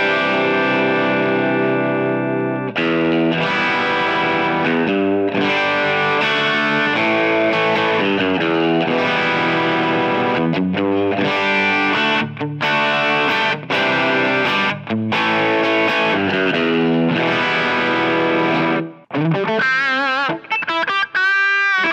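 Electric guitar played through a Line 6 HX Stomp preset with a stock cab: loud, distorted strummed chords with chorus and echo, ringing continuously for about twenty seconds before ending in a few sustained notes.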